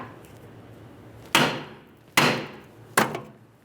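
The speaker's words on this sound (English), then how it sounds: "I'm going to be using a hammer for this, a couple light taps" Three sharp hammer taps, spaced about a second apart, ring out on the wheel bearing hub assembly of a 2009-2014 Nissan Maxima 3.5L during a rear bearing replacement. They are close and clear, with nothing else in the background.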